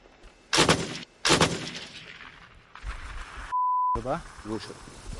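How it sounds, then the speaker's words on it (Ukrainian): Two sharp, loud weapon shots burst out a moment apart, followed by a rougher blast, then a steady electronic beep tone and a few softer clattering pops, with voices heard intermittently. "Постріл."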